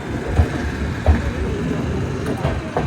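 Gatiman Express train running at speed after departing Gwalior, a steady rumbling interior roar with a few soft thumps from the wheels over the track.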